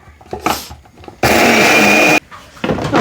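An electric grinder whirs loudly for about a second as it grinds dried coriander and cumin, set between quieter clattering and handling noises.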